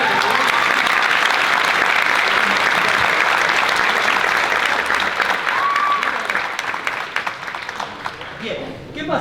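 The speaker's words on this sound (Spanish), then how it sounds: "Bien, un aplauso." An audience at a talk bursts into loud, dense applause that holds steady for several seconds, then thins and fades toward the end.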